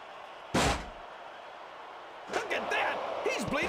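A chair cracks against a wrestler in the ring in one sharp, loud slam, followed a couple of seconds later by excited shouting voices.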